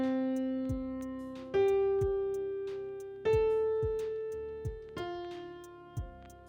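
A major-key I–V–vi–IV chord progression played on a sustained synth or keyboard patch in FL Studio. Four chords ring out in turn, each held and slowly fading, with soft rhythmic ticks underneath.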